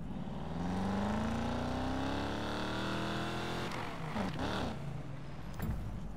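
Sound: Chevrolet Camaro engine in video game Need for Speed Payback

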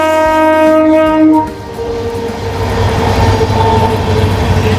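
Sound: passing train

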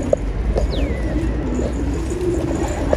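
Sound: pigeons cooing

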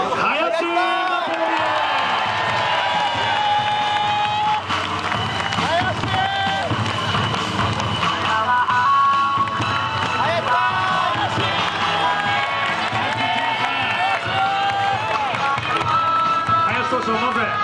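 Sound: stadium crowd cheering for baseball hero interview

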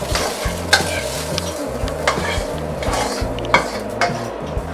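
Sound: stirring sausage into spaghetti in a pan

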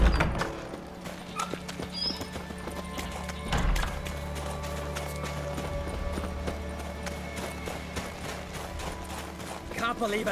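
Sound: horse galloping and neighing in a video game

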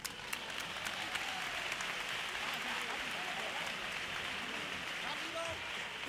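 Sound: audience applause for a carnival chirigota

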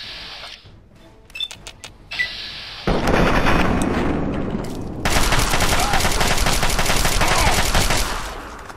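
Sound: turret gunfire in Fallout 3 video game

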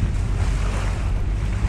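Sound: strong easterly wind on beach

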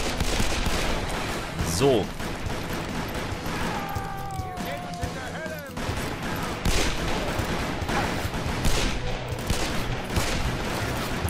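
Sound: revolver gunfire in Call of Juarez Bound in Blood video game

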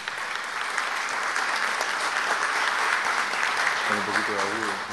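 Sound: applause for the deputy mayor at a ceremony

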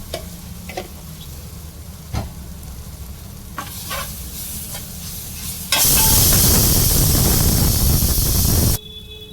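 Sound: ginger garlic paste frying and stirred in a pan

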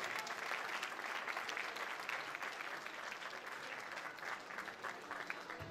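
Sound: audience applause welcoming the Ata Kadınları choir

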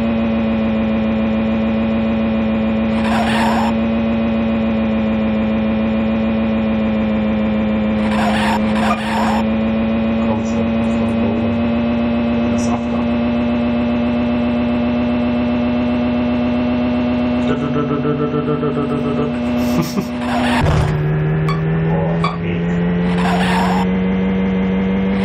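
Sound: car engine in the Amiga game Lotus Esprit Turbo Challenge

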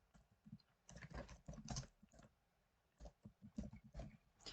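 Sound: typing a name on a keyboard in Canva

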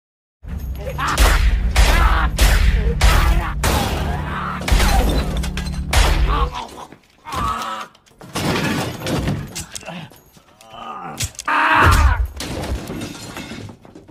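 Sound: gunfire in a film shootout scene

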